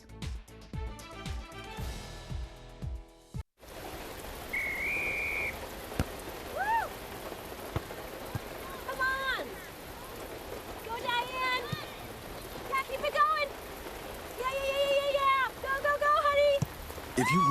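Rain falls steadily in a TV advertisement, a continuous pattering hiss that starts after a short music intro, with chirpy whistle-like sounds and voices over it.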